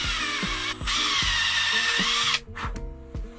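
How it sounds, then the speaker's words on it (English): A power drill pre-drills mounting holes on a 1980 International S1854 dump truck, a loud, high whine that runs for about two seconds, then cuts out into short, stuttering bursts. "pre-drill some holes where this is gonna mount to"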